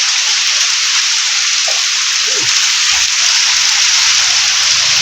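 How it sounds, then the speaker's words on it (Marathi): Heavy monsoon rain pours steadily in the Konkan region, a dense continuous hiss throughout with no pauses, loud and close. "आज पाऊस पडतो मित्रांनो"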